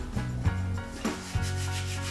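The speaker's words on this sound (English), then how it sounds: "I'm going to roll this out to about 1 inch thick." Buttermilk biscuit dough is rolled out to about an inch thick, with close, rhythmic rubbing strokes repeating every fraction of a second.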